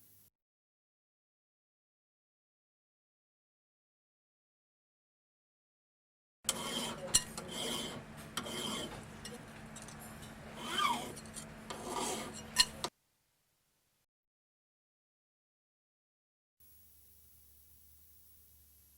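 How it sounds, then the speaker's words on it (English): Hand tool rubbed under pressure across softer steel to imprint the teeth of a metal file, a burst of scraping, rasping strokes lasting about six seconds, then quiet with faint background hiss. "By applying pressure and rubbing, this design is imprinted on the softer steel of the file."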